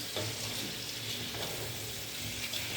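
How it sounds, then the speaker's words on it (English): Pre-boiled water pouring steadily into a pot of pilau to steam it, with a continuous hissing splash, faint and even throughout. "And I'm gonna pour some water in"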